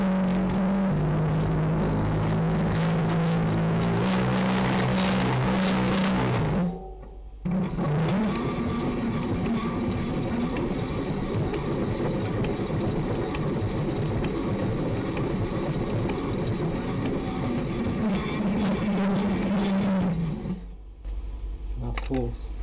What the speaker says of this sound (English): So these gears making really loud noise.